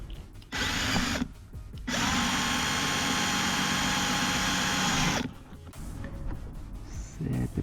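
Power drill boring a hole through a trim panel and plug for a rear-view camera on a Honda Civic sedan. Two loud, steady whirring bursts, a short one and then a longer one, sit close to the microphone with quieter handling noises between and after.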